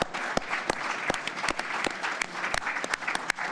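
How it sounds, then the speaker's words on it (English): A crowd at a boxing press conference for Derek Chisora versus Otto Wallin claps in a dense, lively round of applause, with sharp individual claps standing out through the steady roar. "Let's get a round of applause, by the way."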